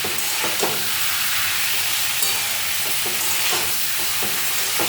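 Eggplant pieces frying in a hot pan make a loud, steady sizzle up close. Soft stirring scrapes recur now and then under the constant hiss.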